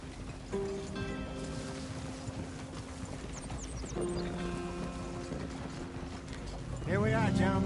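Horse galloping in Red Dead Redemption 2, a steady rhythmic clip-clop of hooves running close by under musical tones, with a voice speaking near the end.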